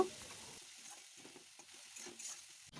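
Spice paste with tomato, coriander, chili and turmeric powders frying in a pan for a Bengali chhana bora curry, a quiet low sizzle with soft stirring scrapes, brief and fairly faint.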